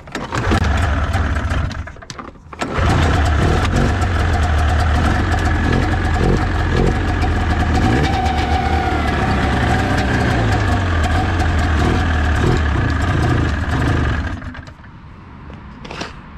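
A 1988 Arctic Cat Cougar 500 snowmobile, a rusty old sled, firing up after a pull start, a brief hiccup, then a loud, steady two-stroke idle close by that drops off near the end, no talking.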